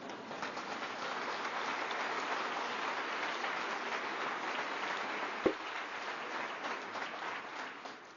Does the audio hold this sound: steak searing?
no